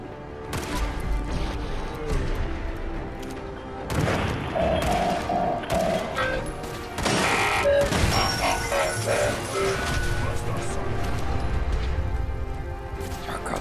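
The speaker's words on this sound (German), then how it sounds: "da explodiert schon wieder alles" Explosions go off in the video game Fallout 4: several heavy booming, crashing bursts over continuous game noise, with a voice heard at times.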